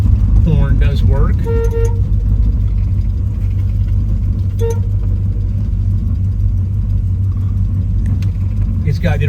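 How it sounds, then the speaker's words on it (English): Horn of a 1973 Plymouth Road Runner classic muscle car honks in short loud bursts over a steady engine rumble, with someone speaking nearby between the blasts. "Horn does work."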